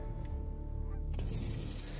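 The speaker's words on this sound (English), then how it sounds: "Yeah, we got some bunch of honkers in here." Geese honking over a field during a duck and goose hunt, a few calls heard under heavy low wind rumble, with a brief louder gusty swell partway through.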